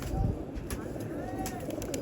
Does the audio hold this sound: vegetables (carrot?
no